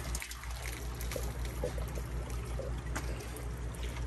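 Water pouring and trickling steadily into a home aquarium in a fish room, a continuous close splashing stream over a low background hum, with no talking.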